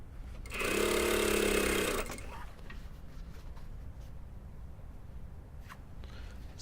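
A sewing machine stitches a two-piece sleeve of a dartless lined jacket in one steady, close burst of about a second and a half, then stops, leaving quiet room tone.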